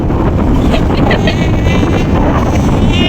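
Strong wind buffets the microphone outdoors, a loud continuous roaring rumble filling the whole stretch, with faint voices barely surfacing beneath it.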